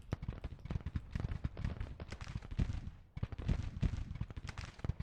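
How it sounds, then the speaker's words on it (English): Union artillery firing at fortifications around Pickett's brigade in the Civil War strategy game Grand Tactician, a dense rolling barrage of sharp cannon booms and crackling volleys, loud and continuous with a brief lull midway. "Union guns trying to break through the fortifications around Pickett's brigade."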